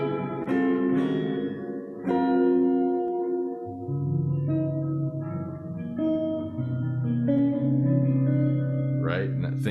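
Electric guitar notes and chords ring out with heavy reverb, each phrase lingering and washing into the next, sounding spacious and muddy.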